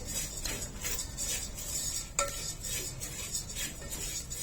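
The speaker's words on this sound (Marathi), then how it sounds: "आता यामध्ये आवडीनुसार ड्रायफ्रुट्स घालून घ्यायचे ड्रायफ्रुट सुद्धा पाच मिनिटं परतून घ्यायचे" Dry fruits are roasted with rice semolina in a pan for rice kheer and stirred steadily with a metal spoon. The spoon scrapes in a regular rhythm, with one sharper clink partway through.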